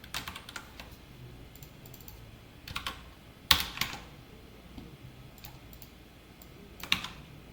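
Keyboard keystrokes tapping out text on a computer during a coding lesson, scattered soft clicks in irregular bursts with a couple of sharper, louder key hits, close and alone without talk.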